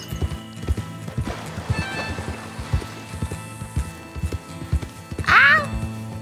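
Hooves clatter in a rapid galloping rhythm throughout in Red Dead Redemption 2, with a horse whinnying loudly near the end over a steady musical backdrop.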